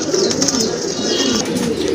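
Pigeons in a loft coo in low, throaty, continuous rolling calls, close and fairly loud, with a faint flutter of wings.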